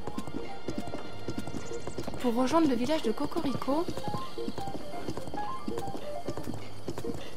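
Horse hooves clip-clop steadily throughout in Zelda: Breath of the Wild, with a brief whinny partway through and someone talking over the rhythmic footfalls.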